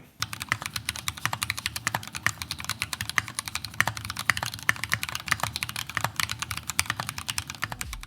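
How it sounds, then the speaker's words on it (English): Steady, fast typing on a mechanical keyboard with Gateron brown tactile switches and XDA-profile keycaps, dense clacking keystrokes that continue the whole time, close and clear, with no voices. "this features Gateron brown switches and Keychron's XDA retro keycaps, and here's what that sounds like"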